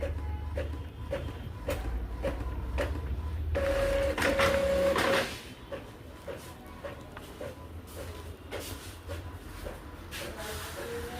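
Skin analyzer machine reports feeding out of a printer, heard as a run of regular mechanical clicks and whirring passes, with a louder motor burst in the middle, close and moderately quiet.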